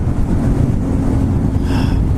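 Wind blasting across a microphone outdoors in a national park: steady loud low rumble and buffeting that fills the whole stretch, with no talk.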